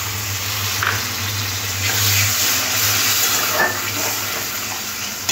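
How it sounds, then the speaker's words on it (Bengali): Spice-rinsing water is poured into a pan of tomato masala, a steady, close watery gush and sizzle lasting throughout. "এবার দিয়ে দেবো মশলা ধোয়ার জলটা।"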